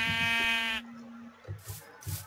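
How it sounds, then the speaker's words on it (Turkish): A sheep in Minecraft bleats once with a loud, sustained, reedy cry lasting close to a second, followed by a few soft game thuds and brief noises. "Koyunumuz oldu ya."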